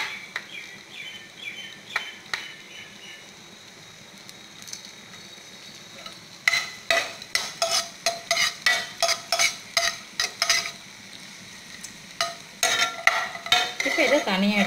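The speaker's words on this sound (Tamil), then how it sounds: "இதுலேயே திராட்சை போட்டுக்கலாம்." Cashews and raisins fry in a pan for cucumber kesari, a low sizzle broken by a long run of rapid rhythmic spoon clacks against the pan, close and fairly loud, without speech.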